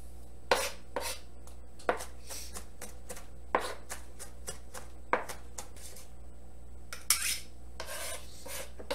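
A knife chops garlic cloves very finely on a board, with quick, close, rhythmic taps and rocking scrapes, punctuated by a few sharper knocks, over a faint steady hum.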